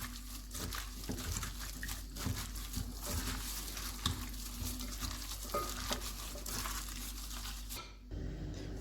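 Raw chicken being mixed by hand with ginger garlic paste for a marinade in a home kitchen, giving a steady wet squelching and stirring against a constant low background hum, with no talking.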